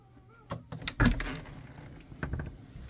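An RV door is worked, with scattered clicks and a louder clunk and rattle near the middle, then a few softer knocks, in a quiet interior.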